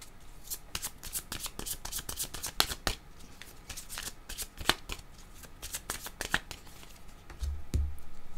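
A deck of cards is shuffled close up in rapid riffling bursts, crisp flicking snaps repeating over several seconds during a card reading.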